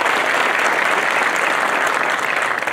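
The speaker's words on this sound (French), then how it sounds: "Vous pouvez les applaudir si vous le voulez." Steady applause from a conference audience, dense and continuous throughout, with no voices over it.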